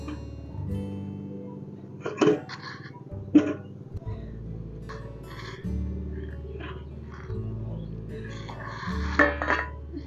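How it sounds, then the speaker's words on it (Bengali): A metal lid lifted off a steaming pot of colourful bhapa pitha with taro, a few sharp clanks and clinks spaced several seconds apart over a low continuous hum, close by. "এবার আমি ঢাকাটা খুলে নিচ্ছি"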